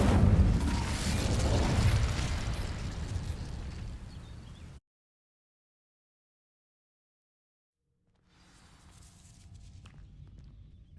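An Incendio fire spell cast in the Hogwarts Legacy video game, a loud roaring burst with crackling that cuts to total silence, followed by a faint low rumble.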